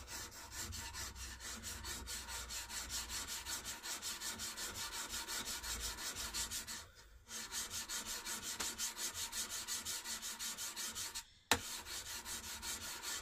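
Chisel or plane iron sharpened freehand on a sharpening stone, a steady rhythmic back-and-forth rasping scrape repeated many times at close range, with two brief pauses.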